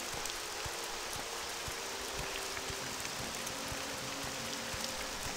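Steady rain in the video game The Elder Scrolls III: Morrowind hisses evenly throughout, with faint scattered drops ticking underneath; a constant, soft wash of sound with no voices.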